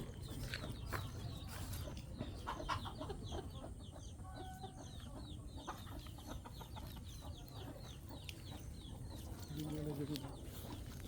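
Backyard chickens, including a hen, cluck repeatedly in short, scattered calls at close range, while people talk in Filipino over steady outdoor background noise.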